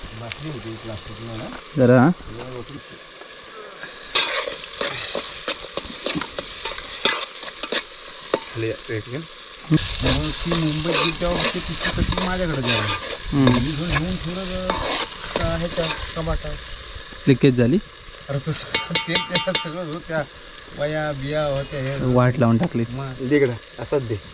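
Onion and tomato fry in a pan in a Konkan village, a loud continuous sizzle broken by repeated stirring scrapes, with people talking over it throughout.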